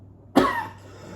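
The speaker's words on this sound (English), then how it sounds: "I'm sorry, I just can't stop coughing." A single sharp cough bursts out close by, then trails off into quiet.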